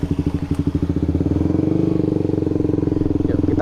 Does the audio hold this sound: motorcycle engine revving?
yes